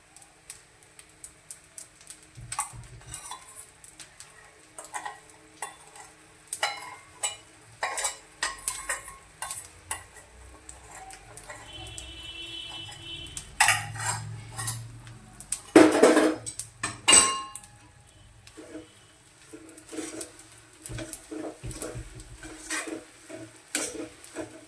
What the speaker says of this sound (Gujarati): હવે આપણે એમાં જે આ ચાસણી છે એ નાખવાની છે